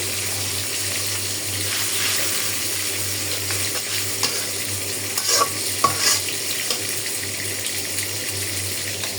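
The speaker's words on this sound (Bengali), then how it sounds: "এখানে মাংস ভাজা হয়ে যাচ্ছে" Meat frying in a pan with garlic paste and cumin paste, a steady close sizzle with occasional stirring scrapes and clinks, no talking.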